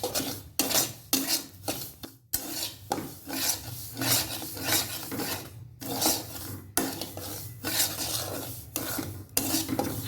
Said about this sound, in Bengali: সুজিটা ঢেলেও নিয়েছি। এখন নেড়ে চেড়ে নেব ভালো করে।